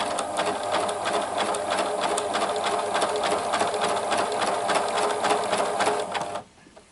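A Pfaff classic-style quilting sewing machine stitches through fabric, a steady rapid mechanical whir and needle clatter running loud and close for about six seconds before stopping abruptly.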